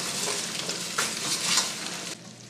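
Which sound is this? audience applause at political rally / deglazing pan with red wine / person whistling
deglazing pan with red wine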